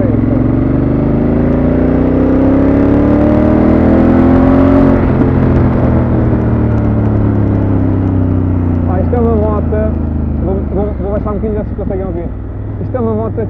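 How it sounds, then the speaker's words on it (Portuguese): Honda Africa Twin 2017 motorcycle engine accelerating, a loud rising drone with climbing harmonics over the first five seconds, then settling to a steady running note while someone talks over it. "Pá, é uma moto que acelera muito bem,"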